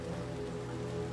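Steady rain falls in a dark alleyway in Little Nightmares 2, a continuous soft hiss of drops with a low hum beneath, unchanging across the brief moment.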